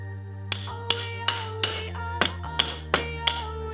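Hammer tapping a rust-seized bolt on a Land Rover Discovery, about nine sharp metallic strikes in a fairly even rhythm, each ringing briefly, close and loud with a steady low hum beneath.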